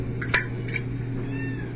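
Cats meowing at morning feeding time, two short meows close by over a steady low hum, with a faint thin cry trailing near the end.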